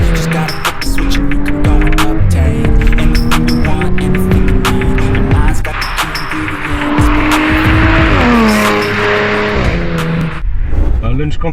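Audi S4 B8 quattro tuned to 427 hp launches and accelerates hard, its engine climbing through several gear changes in loud, close rising sweeps, with voices talking over it.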